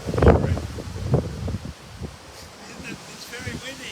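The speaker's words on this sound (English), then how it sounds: "It's very windy." Strong storm wind buffeting outdoors, gusty rushing bursts with microphone rumble that are loud at first and then ease into a softer, rustling blow.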